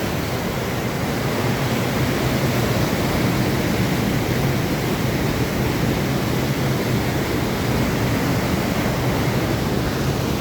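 Loud, unbroken roar of rushing water at the Falls of Bracklinn, cutting through rock, heard up close and alone as a constant dense wash of noise.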